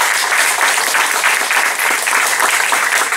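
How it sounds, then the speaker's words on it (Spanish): Church congregation giving loud, sustained applause, a thick continuous roar of many hands clapping together, close and steady for the whole stretch with no voices heard. "Denle un fuerte aplauso."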